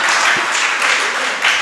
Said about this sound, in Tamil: கைத்தட்டுங்க கொஞ்சம்.